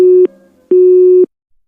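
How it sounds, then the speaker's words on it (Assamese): A phone line drops after a call is cut off, giving two steady electronic busy-signal beeps with a short gap between them, loud and clean with no talking. "তাই ফোনটো কাটি দিলে"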